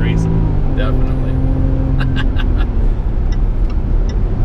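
A supercharged six-cylinder Range Rover accelerates quietly, its steady low engine drone filling the clip beneath people talking inside the cabin.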